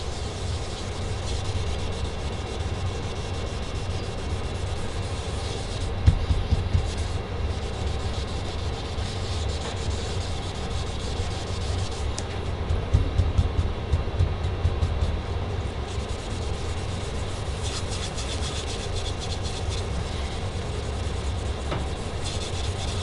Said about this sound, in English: do some good sanding.